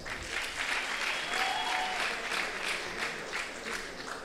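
Audience at a live Rwandan entertainment show breaks into steady, dense applause, clapping filling the room evenly for several seconds without a break.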